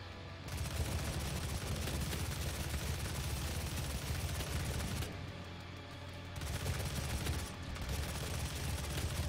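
Sustained, loud gunfire from the video game DOOM SnapMap, a dense continuous barrage of rapid shots with brief gaps, heavy low-end booms throughout and no voices.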